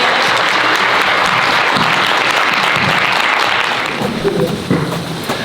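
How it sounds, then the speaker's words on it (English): A crowd applauds panelists after a discussion, loud dense clapping that holds steady, then thins slightly toward the end as a few voices rise beneath it. "Let's give our panelists another round of applause."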